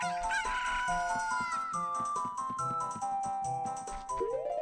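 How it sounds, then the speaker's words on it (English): A chicken in the video game Zelda: Ocarina of Time crows loudly over continuous game music, with a drawn-out cock-a-doodle-doo and clucking near the end, no one talking. "The chicken made a noise."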